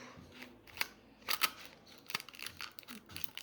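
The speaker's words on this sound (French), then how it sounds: "on prend un morceau de scotch assez grand et on vient placer le scotch au bout" Adhesive tape pulled off a roll and pressed into place during a paper craft activity: a quick series of close, crackly rips and taps, fairly quiet with no talking.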